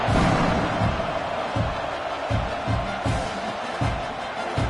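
Crowd at a Notre Dame college football game roars in the stadium just before kickoff, a dense, steady wash of cheering with low thumping bursts rising and falling throughout, no clear voices standing out.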